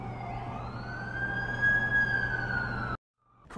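An ambulance siren in the video game The Amazing Spider-Man 2 wails in a steady rising-and-sustained tone over low engine rumble, fairly loud and close, cutting off abruptly near the end.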